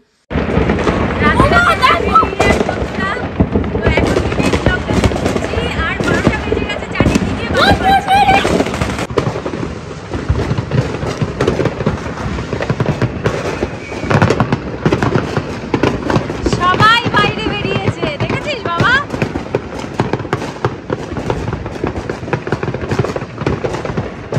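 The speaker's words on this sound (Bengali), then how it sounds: "আমাদের বাড়ির সামনে এত বাজি ফাটে যে অন্য কোথাও যাওয়ার আমাদের প্রয়োজন হয় না" Fireworks and firecrackers burst repeatedly outside a house in America on New Year's Day, a dense series of sharp cracks and booms at varying distances, some close and loud, with people talking over them.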